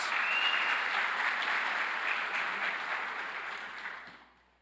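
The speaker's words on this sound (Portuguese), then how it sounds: "Aplauda o Senhor por isso." A church congregation applauds together in a broad, steady wash of clapping that holds strong for several seconds, then thins and fades out near the end.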